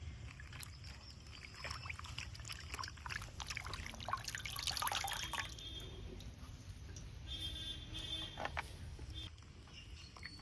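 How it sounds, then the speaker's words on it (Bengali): Solid mutton fat rinsed under running water at a kitchen tap gives a steady, soft flow of water with scattered drips and trickles, close and fairly quiet, with no voices. "এবার চর্বিগুলা খুব ভালো করে পরিষ্কার করে ধুয়ে নিব।"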